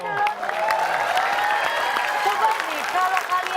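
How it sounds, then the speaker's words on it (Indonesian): An audience claps together in a sustained burst of applause at a comedy quiz show, with voices and light cheering mixed in. "Oke, kita kasih tepuk tangan dulu."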